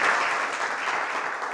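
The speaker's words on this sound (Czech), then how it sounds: "Děkujeme za potlesk" An audience at an evening talk event in Prague applauds, a dense, even wash of clapping held steady throughout the short stretch.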